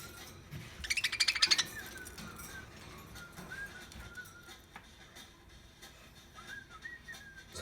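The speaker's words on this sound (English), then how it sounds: "Hello, pretty birds." Two pet budgies, a female and a male, chirp indoors, giving a brief bright flurry of rapid twitters early on and then scattered soft whistles and faint tweets with quiet gaps.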